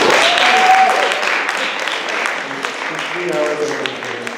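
Applause from a party audience for Katie at a 2018 launch party at Mills College, a dense clapping wash that is strongest early and thins toward the end, with voices mixed in.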